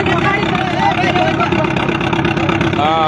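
A fishing boat's engine runs steadily at close range, a continuous mid-pitched drone with faint whining tones, while someone talks over it.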